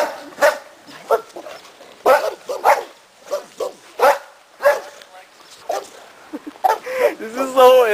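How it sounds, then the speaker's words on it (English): A dog barks and yips in a quick, uneven series of sharp bursts, with whimpering sounds and human voices mixed in between the barks. "This is a dog."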